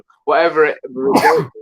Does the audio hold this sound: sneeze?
yes